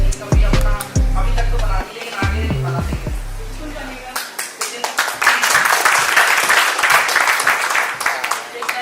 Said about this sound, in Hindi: अमित गौतम जी के लिए जोरदार ताली हो जाए।